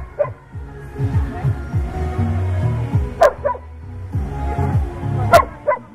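Several rescue dogs bark and yip repeatedly at an outdoor dog show event, loud overlapping barks with whimpers in between, and a faint voice now and then.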